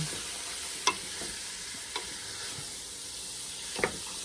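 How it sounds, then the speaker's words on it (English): Peppers, including jalapeños, cook in a soup pot with a steady, close hiss of sizzling and frying, broken by a few soft stirring clinks and scrapes. "We are going to cook this until all of the peppers are just tender"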